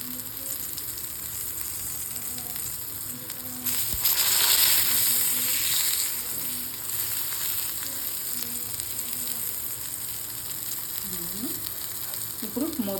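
Eggplant slices fry in oil on a tawa over a medium flame, giving a steady sizzle that swells louder for a couple of seconds midway and then settles back to a constant hiss.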